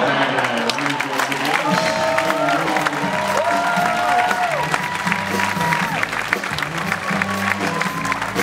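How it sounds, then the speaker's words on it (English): Sustained applause and cheering from a comedy club audience after a stand-up set, a dense steady wash of clapping with crowd voices mixed in, loud and continuous throughout. "One more round of applause for Jourdain."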